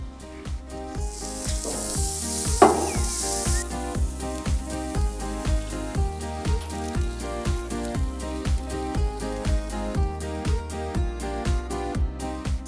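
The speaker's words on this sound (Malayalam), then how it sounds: "നമുക്ക് ഗ്രില്ല് ചെയ്തേക്കാം." A marinated tomahawk steak sizzles on a grill, a bright hiss that is strongest in the first few seconds and then sinks under loud, steady rhythmic music.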